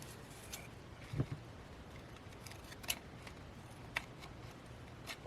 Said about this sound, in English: so I'm going to have to cut that with a pair of scissors.